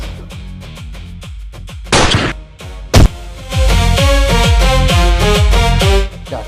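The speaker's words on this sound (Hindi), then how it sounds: "चाचा, बहुत दिनों बाद गोली चलाई है" Several loud gunshots ring out in a dramatic Hindi film scene, a burst of sharp blasts around two and three seconds followed by a sustained, echoing stretch of rapid fire.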